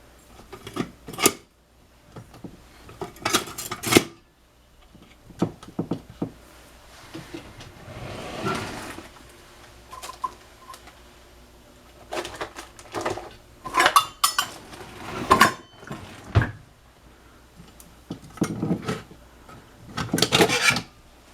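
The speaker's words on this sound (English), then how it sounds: "next, we're going to stir it together" A utensil stirs brownie batter sweetened with Splenda in a bowl, giving repeated scraping and clinking strokes in irregular bursts, close and fairly loud, with short pauses between.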